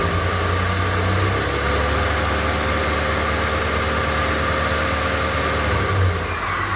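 A 1988 Ford Thunderbird engine runs at steady speed as its throttle is held open, a loud, even mechanical drone filling the whole stretch with little change in pitch.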